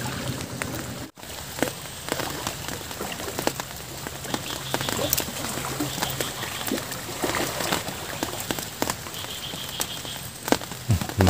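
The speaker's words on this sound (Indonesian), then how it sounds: "Cuaca hujan ini." Rain patters steadily on surfaces and water during a fishing outing, a dense, even hiss with scattered louder drops and occasional knocks, continuing throughout with no one talking.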